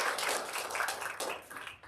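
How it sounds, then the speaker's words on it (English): Audience applause for award recipients at a Michigan State University outreach awards ceremony: a faint, distant wash of many hands clapping that fades out at the end. "Final round of applause for our worthy recipients."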